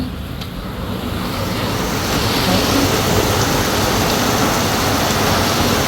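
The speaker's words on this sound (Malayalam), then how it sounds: "ഭയങ്കര മഴയാട്ടോ" Heavy rain pours down in a dense, steady roar that fills the whole clip, loud and close, building slightly after the first seconds with no speech heard.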